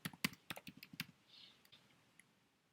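Quick bursts of keystrokes on a computer keyboard, a fast run of close, crisp clicks followed by a few scattered taps, with no one talking.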